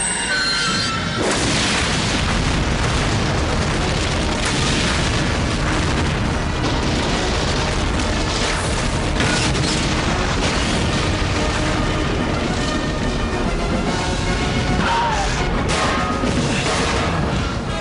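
A massive explosion destroys the Daily Bugle building in an animated Spider-Man scene: a sustained, loud roaring blast with crashing debris that fills the whole stretch without let-up.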